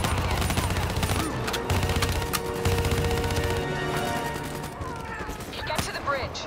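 Covering gunfire in the video game Call of Duty: Black Ops III, with dense bursts of automatic rifle fire and scattered impacts alongside a low droning engine, a voice speaking over the shooting.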